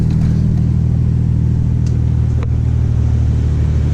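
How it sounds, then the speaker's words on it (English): A 2016 BMW X4 M40i with its stock exhaust rumbles loudly and steadily, a deep continuous drone close up with a couple of brief crackles, and no talking over it. "Exhaust is really loud for a stock car."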